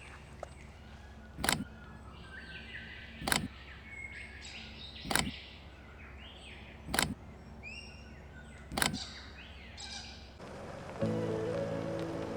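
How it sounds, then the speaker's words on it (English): Distant birds call in the Australian bush, faint chirps scattered over a steady outdoor background, with a few louder knocks repeating at regular intervals. "Lots of birds far away."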